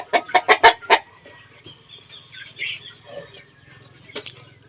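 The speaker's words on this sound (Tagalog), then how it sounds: "Look at the hen there." A hen clucking in a chicken pen: a quick burst of four or five loud clucks up close, then quieter scattered clucks and rustling, with one more sharp cluck near the end.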